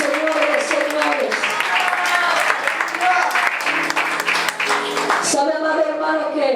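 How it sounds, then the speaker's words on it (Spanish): A church congregation at a general worship meeting claps for several seconds in a loud, continuous burst, while sustained keyboard tones ring underneath and swell near the end. "le dé un fuerte aplauso al Rey de Reyes"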